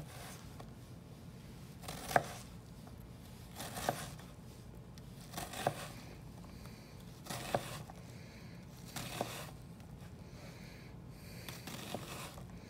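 A knife dicing an onion on a cutting board, heard as quiet, evenly spaced chops roughly every two seconds over a low background.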